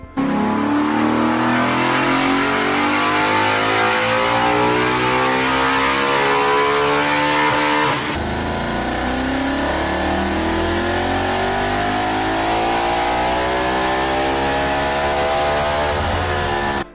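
A V8 car engine roars loudly and continuously, pitch sweeping up and down through repeated revs, with a sharp gear-like change midway.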